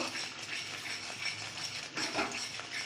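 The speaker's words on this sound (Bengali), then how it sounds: "জাস্ট আমি একটু নাড়াচাড়া করব।" Mustard paste being stirred into Bengali fish curry in a pan on the stove: a continuous close scraping and rattling, with small metallic knocks running through the whole stretch.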